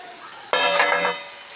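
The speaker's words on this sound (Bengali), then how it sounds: "পটল ভাজি বানাচ্ছি" Pointed gourd slices for potol bhaji dropping into hot oil in a pan, a sudden loud burst of crackling sizzle that settles into a softer steady frying hiss, heard close up with no voices.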